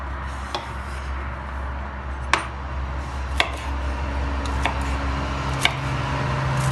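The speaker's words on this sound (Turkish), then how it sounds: "Şimdi yavaş yavaş börülcemi doğramaya başlayacağım." Sharp knife chops strike a board now and then as black-eyed peas are cut, spaced irregularly over a low steady background hum, with no talking.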